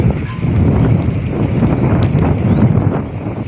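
Wind blows hard during a rain storm near Gundala Jas in Vichhiya taluka, Rajkot, a loud, continuous rumbling rush buffeting the microphone with no break.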